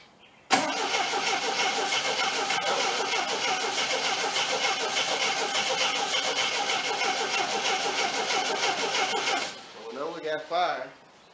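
A 1979 Triumph TR7 engine cranks and catches, running roughly at a steady loud level for about nine seconds before cutting out, followed by a few brief sputters.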